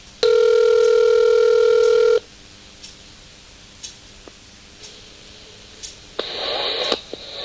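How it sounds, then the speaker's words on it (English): Automated telephone recording followed by a dial tone: a loud, steady multi-tone beep for about two seconds, a quiet stretch with faint clicks, then a louder, rougher tone near the end. "If you would like to make a call, please hang up and try again."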